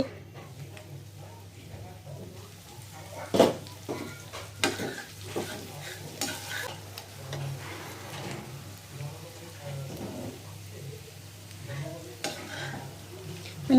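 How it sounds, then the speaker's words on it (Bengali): A spoon stirs flat bean mash with coriander leaves in a pan, giving soft scraping knocks over a low, steady sizzle, near and fairly quiet, with a voice speaking faintly now and then. "ভালো করে লাড়া চারা দেবো"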